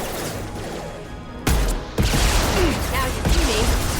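Gunfire in the sci-fi shooter video game Mass Effect 2, loud sharp bursts around the middle of the clip and a steady stream of shots afterward, with voices talking over the combat.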